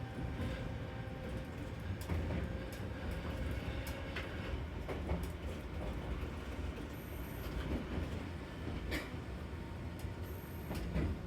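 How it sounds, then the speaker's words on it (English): A tram on Kyoto's Randen line rumbles steadily along the track, with continuous low roar, occasional clanks and brief high squeals from the wheels. "he then took the next tram heading 2 stops north up the line"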